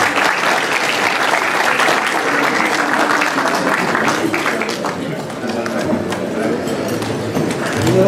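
Loud applause from a crowd at an anniversary ceremony in Chincha honoring a local benefactor, sustained and dense, with voices talking over the clapping throughout.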